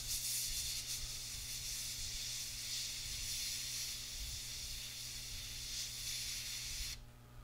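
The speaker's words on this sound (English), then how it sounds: "do I need to clean my airbrush out" An airbrush sprays paint onto a 1/48 scale F-4B Phantom model kit, giving a continuous close, airy hiss that holds steady for several seconds before cutting off abruptly at the end.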